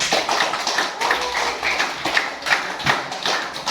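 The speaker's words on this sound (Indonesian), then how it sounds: "tepuk tangan untuk Rasti." A small group claps in a short burst of scattered, fairly close applause with uneven rhythm, in a classroom.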